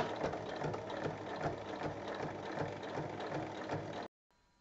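A sewing machine runs at a steady pace, stitching a straight seam along a folded piece of fabric for a pouch. The whirring, ratcheting mechanical drone is close and continuous for about four seconds, then stops abruptly.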